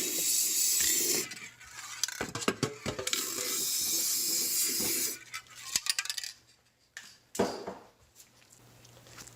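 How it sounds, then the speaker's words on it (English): WD-40 aerosol sprayed into a tight spot during apartment maintenance work, several close hissing bursts of varying length with short gaps and clanks between them. "Grab some WD-40, we'll spray it."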